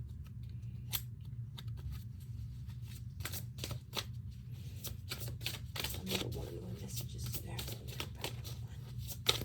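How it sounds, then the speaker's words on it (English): Rapid, crisp riffling of tarot cards being shuffled several times in bursts, close up, with a faint low hum underneath. "So let's shuffle you some cards."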